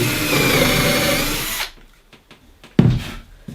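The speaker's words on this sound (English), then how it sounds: "you drill a hole like that" A power drill whirs steadily into material for over a second and a half, then stops, followed by a few quiet clicks and a short thump.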